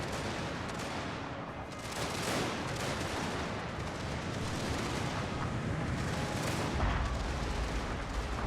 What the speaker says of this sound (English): The mortars are striking out here, not really doing that much.